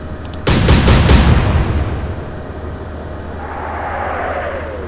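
Naval guns fire in the Atlantic Fleet game: a quick salvo of several loud booming shots in rapid succession, followed by a long rumbling decay and a faint whistling sound as the shells travel.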